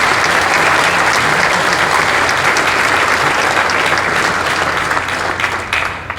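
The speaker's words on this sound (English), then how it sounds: "Let's give Dr. McManus a big round of applause." Loud, dense applause from a conference audience for Dr. McManus after a WWII history keynote, sustained throughout and thinning slightly at the end.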